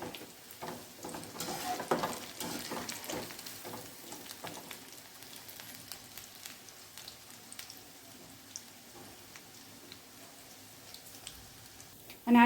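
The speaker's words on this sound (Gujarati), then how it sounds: "આપણે ક્રિસ્પી થાય ત્યાં સુધી તળી લઈશું" Corn fritters (makai bhajiya) deep-frying in oil over a low flame, a soft crackling sizzle like light rain with scattered pops, fairly quiet throughout.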